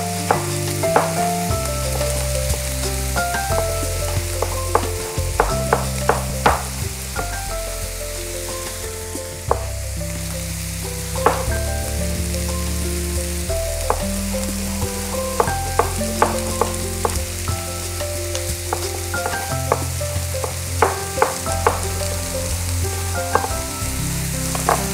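Vegetables sizzle in a pan for an Indian vegetarian dish with steady crackling, accompanied by background music with a rhythmic beat.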